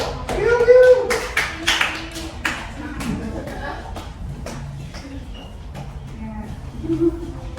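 Students in a classroom give a burst of hand clapping after a micro-teaching presentation on evolution; the applause is loudest at first, then thins into scattered claps and shuffling while voices murmur.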